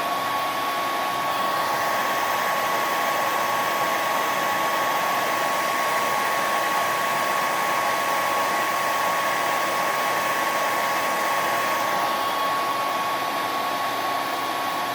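A heat tool blows hot air over a 1/4-scale Superman model kit, a steady, loud whooshing hum with a thin whine that runs unbroken for the whole stretch, nearby and alone.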